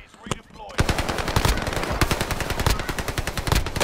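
Rapid automatic gunfire from a video game, dense bursts of loud shots rattling almost continuously after a brief quieter opening with a couple of isolated shots.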